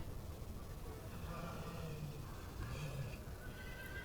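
A fine big horse whinnies in an amateur show ring at a championship, several drawn-out neighs rising out of steady crowd and arena noise, with faint hoof clip-clop.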